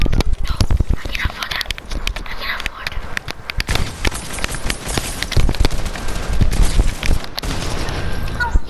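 Rapid, dense bursts of gunfire in the Fortnite video game, with close, loud shots cracking almost continuously over several seconds and voices faintly underneath.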